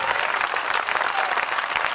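Loud audience applause at a Hindi poetry recital, a thick wash of many hands clapping continuously and evenly throughout, with no speech over it.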